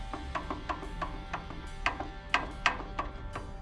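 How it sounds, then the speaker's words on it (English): A Briggs and Stratton opposed-twin lawn mower starter with a worn bearing and play in its gear grinds with a rough, repeating ratchet-like clatter, evenly paced dry clicks close up with nobody speaking. "my starter was already grinding"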